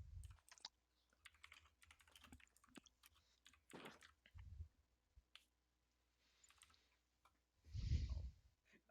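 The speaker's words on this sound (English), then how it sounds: "I won't make you guys listen to typing." Quiet bursts of typing on a computer keyboard, scattered clicks and short clattering runs with pauses, close and soft, ending in a brief low thump.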